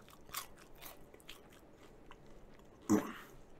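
Faint crunching from chewing seasoned fries, soft bites with one sharper crisp crunch near the end, quiet and close.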